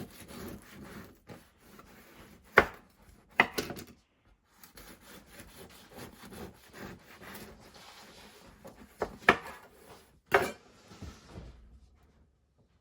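A knife sawing through a loaf of homemade honey buttermilk sandwich bread, soft rasping strokes in short bursts with a few sharper crunches from the crust, close and quiet with pauses between cuts.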